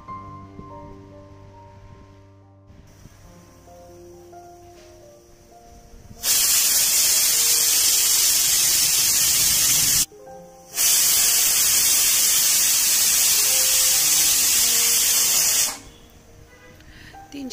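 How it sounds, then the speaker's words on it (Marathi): A pressure cooker on a stove releases steam in a loud, steady hiss, about four seconds at a time in two long bursts with a short gap between them. Quiet kitchen noise comes before and after the bursts. "तीन शिट्ट्या झालेल्या आहेत। आता कुकरची वाफ काढून घ्यायची आहे"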